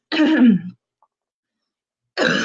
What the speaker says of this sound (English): excuse me, I have to clear my throat for just a second